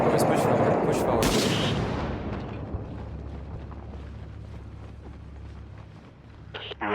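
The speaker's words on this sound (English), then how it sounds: "Mortar's coming in, mortar's coming in." Incoming mortar rounds and gunfire in the urban combat game Six Days in Fallujah: a loud blast and sharp gunshot cracks at the start, then a long rumbling decay with scattered distant shots and a voice calling out.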